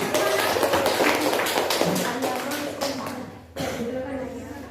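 Students in a classroom clap together before a group presentation, a dense, fairly loud burst of applause that thins out and stops, followed by a voice speaking.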